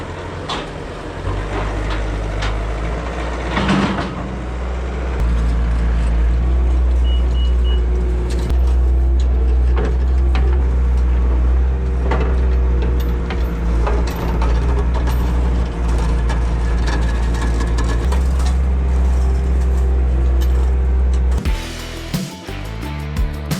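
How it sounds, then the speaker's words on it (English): A skidder engine runs loud and close, rumbling steadily and shifting in load while it pulls out an old, buried woven-wire fence about a century old, then cuts off abruptly near the end. "That's why we got to bring the skidder"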